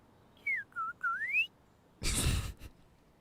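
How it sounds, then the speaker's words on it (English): A bird-like whistle from Genshin Impact, three short rising and falling melodic chirps close together, followed by a brief breathy rush of noise, faint overall with no talking. "It just whistled like a bird."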